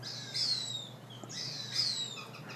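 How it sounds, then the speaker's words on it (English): An adult Cooper's hawk calls in two short, high, piercing bursts about a second and a half apart, clear and moderately close over a faint low background hum. "And then that is the adult Cooper's hawk."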